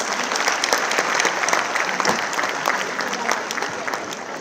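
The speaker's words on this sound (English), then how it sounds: "A round of applause for our leaders" Audience applauding leaders at a Canary School event, a steady dense wash of clapping from a large crowd held at a constant level throughout, with a faint voice or two underneath.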